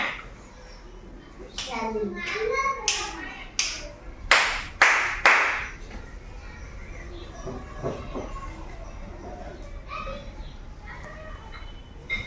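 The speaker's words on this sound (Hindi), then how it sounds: "देखो मैंने कितनी ताली बजाई और कितनी चुटकी बजाई।" Hand claps and finger snaps in a children's counting game, a run of sharp separate claps and snaps near the middle, with a voice and classroom chatter around them.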